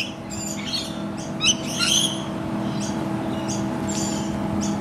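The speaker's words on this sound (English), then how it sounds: "That's a Currawong." A currawong calls near a suburban house among other birds, its chirps and call notes repeating through the clip over a steady background hum.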